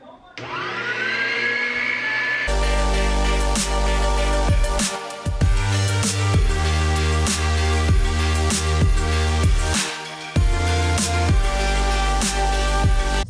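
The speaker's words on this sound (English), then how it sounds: "So on the end of this burger machine, there is like a little spout that comes out" A burger-machine meat grinder processes deer meat in a home kitchen: a loud motor drone with a rising whine, then heavy rhythmic grinding and churning that continues with brief dips, with no talking.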